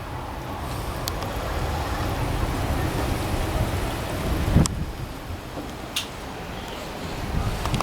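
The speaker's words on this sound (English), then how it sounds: "It's starting to rain." Steady outdoor rain during a storm in Dover, a dense continuous hiss with a few sharp cracks and a brief thump partway through, no voices heard.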